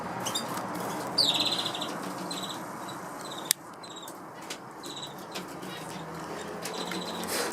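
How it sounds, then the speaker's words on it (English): Zebra finches chirp in an aviary, with short high tweets and calls scattered over a busy background of birds, plus one sharp click partway through. "Zebra finch."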